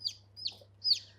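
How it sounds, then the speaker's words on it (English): A black silkie chicken gives three short, high clucks, evenly spaced, close and fairly soft, over a low steady hum. "This is one of my silkies. I have a black silky."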